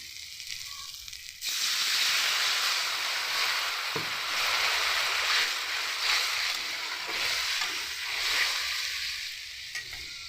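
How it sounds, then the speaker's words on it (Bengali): Water poured into hot oil and frying spices in a cooking pan bursts into a loud, steady sizzle that fills the kitchen after a quiet start, holding strong with faint stirring until the end. "চলুন এবারে আমি পরিমাণ মতো জল দিয়ে দিই।"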